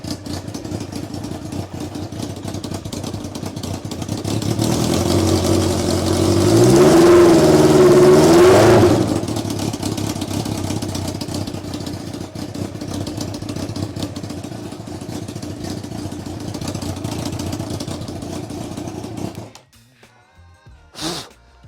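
A small motorcycle engine fitted to a kei truck idles on its own with a steady, throbbing mechanical clatter, rising briefly into a louder rev before settling back to idle and then cutting off near the end.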